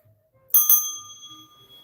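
Two quick bright rings of a small handheld bell during a live rock and mineral sale, sharp strikes with a ringing tail that fades out over a quiet room.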